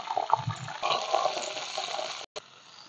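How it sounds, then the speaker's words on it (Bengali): Cauliflower and potato frying in hot oil, a steady bright hiss and sizzle that stays even for a couple of seconds before cutting off briefly, close by with no speech. "তেলটা গরম হয়ে গেছে, এবারে ফুলকপিগুলো ভেজে নেবো একদম ভালো করে।"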